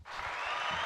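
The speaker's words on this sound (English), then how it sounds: "Round of applause" Applause from a small podcast studio audience welcoming two guests, a dense, steady patter of clapping filling the whole moment at close range.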